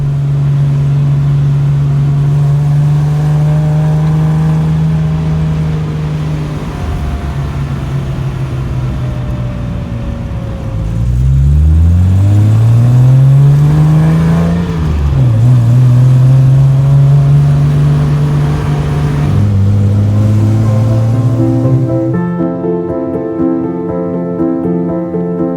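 Triumph GT6 MK3 sports car engine running loud and close, with a steady idle broken by several rising and falling revs and a final higher, sustained note.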